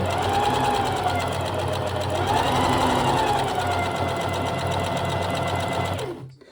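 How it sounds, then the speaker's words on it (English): A sewing machine runs steadily in a continuous mechanical whir for several seconds, then stops abruptly near the end. "so I don't run over it with my sewing machine."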